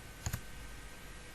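Two quick computer mouse clicks in close succession, crisp and near over a quiet room hum.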